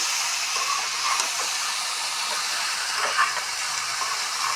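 Spices sizzle steadily in a hot pan while a Bengali curry of black taro, flat bean seeds and dried fish cooks, a continuous close hiss with no talk.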